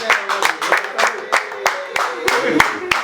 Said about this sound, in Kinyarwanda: muze kubaha amashyi